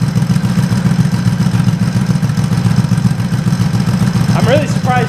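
A Yamaha G1 golf cart engine idles with a steady low chugging rumble close by, freshly run after radiator work, with a brief higher rattle near the end.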